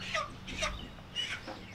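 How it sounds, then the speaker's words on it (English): Chickens clucking and squawking in short bursts during loading into a truck, several calls spaced over a couple of seconds at moderate distance, with a low steady background rumble. "we got 38 chickens"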